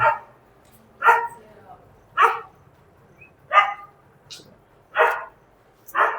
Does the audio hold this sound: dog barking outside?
yes